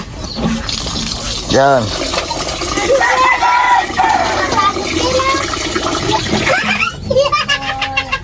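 Water splashes and runs in a steady wash as rice is washed, under ongoing conversation, with people talking close by throughout.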